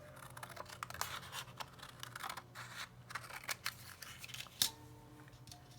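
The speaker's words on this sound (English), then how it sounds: "bring in some scissors to help us trim this up." Scissors trimming a cardstock die cut, a series of close, crisp snipping cuts in an irregular rhythm, quiet and alone.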